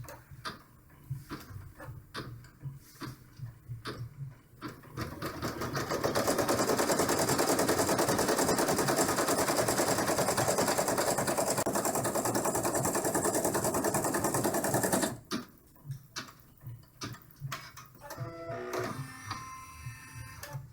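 An embroidery machine stitches an in-the-hoop dollhouse bag, a loud, dense, rapid mechanical whirring and clatter that runs steadily for about ten seconds, framed by quieter ticking and handling sounds before and after.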